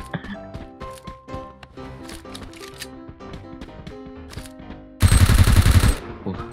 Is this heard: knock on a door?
no